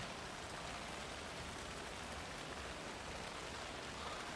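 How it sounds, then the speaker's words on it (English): Steady, dense rain in the video game Alan Wake 2 pours down continuously, a broad even hiss of drops with no pauses or other sounds. "I like how it's raining. I can hear the rain."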